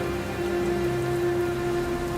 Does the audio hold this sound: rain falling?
yes